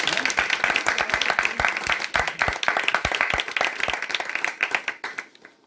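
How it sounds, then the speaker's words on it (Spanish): A school audience claps after student research project presentations, with dense, irregular hand claps from a room of people that thin out and fade toward the end. "un aplauso"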